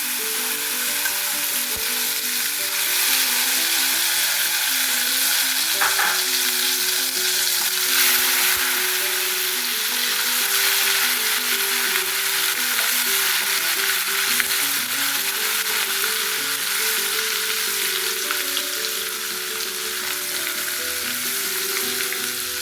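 Ginger garlic paste with mustard seeds fries in hot oil for a Kerala mango pickle, giving a steady, close sizzle that runs the whole time with occasional soft stirring scrapes and no talking.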